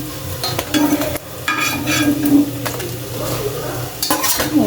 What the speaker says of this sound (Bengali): বেগুনগুলো ভাজা হয়ে যাক